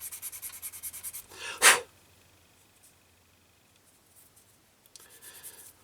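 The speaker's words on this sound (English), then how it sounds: "we haven't sanded the nibs off that bit, so let's just take the nibs off" Brief scraping of a sanding tool taking the sprue nibs off a plastic part from a 1/35 scale M1240A1 M-ATV model kit, a short rubbing burst close to the mic between quieter handling sounds.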